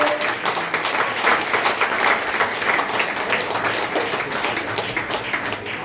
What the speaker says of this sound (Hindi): तालियां साथियों।